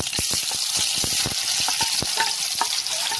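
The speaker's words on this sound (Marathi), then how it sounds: "हे टाकलं तेल, मोहरी, तिखट उडाली की जिरं, कांदा" Mustard seeds and spices sizzle and pop in hot oil for a gram-flour pitla, with a loud, steady frying hiss broken by sharp, close crackles and stirring, and no talking.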